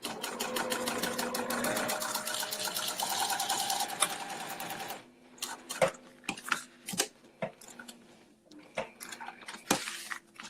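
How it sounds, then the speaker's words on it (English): A sewing machine runs a steady fast stitching rattle for about five seconds while stitching down both sides of a cork cord for a beauty bag, then stops, followed by sparse clicks and handling taps nearby. "stitching down both sides of my cord"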